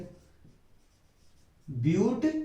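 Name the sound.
writing a chemical name on the board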